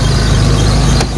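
Dry fan belt on a used Daihatsu Feroza engine squealing in a loud, continuous high whine over the steady running engine, close by.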